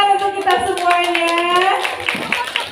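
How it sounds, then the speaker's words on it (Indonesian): Applause from a school audience at a primary school literacy event sounds as a burst of hand clapping mixed with sustained voices, close and fairly loud. "Tepuk tangan untuk kita semuanya."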